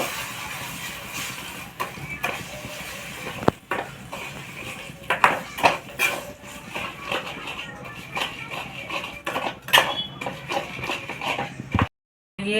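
Sugar being stirred as it melts and reddens in a pan for tamarind chutney, heard as steady scraping and clinks of a spoon against the pan, with a few sharper knocks and brief near-silence at the end.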